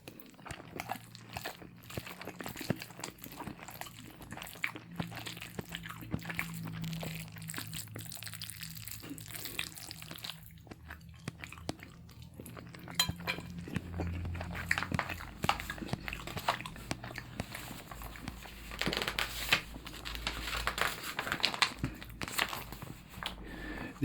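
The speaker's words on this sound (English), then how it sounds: "because I know you guys love these pasta sounds" Someone eating spaghetti and meatballs: close, wet chewing and soft crunchy bites repeating irregularly, with occasional paper crinkles and no talking.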